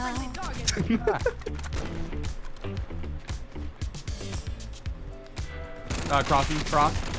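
Gunfire in the video game Call of Duty Warzone, rapid bursts of shots and impacts layered with game effects, while a player talks over much of it.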